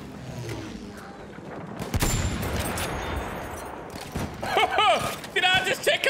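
Gunfire and booming blasts from a fight against a Muromets bomber in a video game, with a burst of shots near the middle and a voice talking over the later part.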